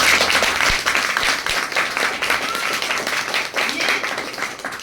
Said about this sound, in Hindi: आप सभी का एक बार जोरदार तालियों से स्वागत